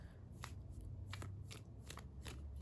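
Tarot cards riffling and sliding against each other in a soft, continuous shuffle with repeated papery flicks, close but quiet over a steady low hum.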